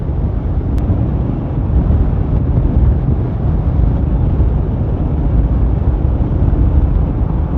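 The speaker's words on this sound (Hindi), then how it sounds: "आज भाई बहुत ज़्यादा हवा चल रही है भाई साहब।" Strong wind roars steadily into the microphone of a motorcycle on a long test ride, a loud, unbroken low rumble with no talk.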